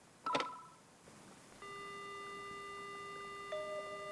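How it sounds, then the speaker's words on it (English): Telephone in the horror adventure game Spirit Hunter: Death Mark: a short clatter and beep as the receiver is lifted, then a steady continuous dial tone that holds to the end, with a faint tonal shift near the close. "The only sound I hear is the dial tone."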